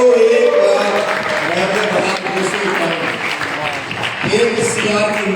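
An audience at a live anniversary celebration in Bangkok applauds loudly and steadily throughout, while someone speaks over the clapping into a microphone.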